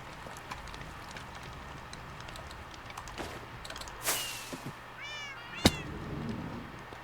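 Video game cats meow several times, short distinct mewing calls among soft clicks and faint mechanical noises, fairly quiet with no talking.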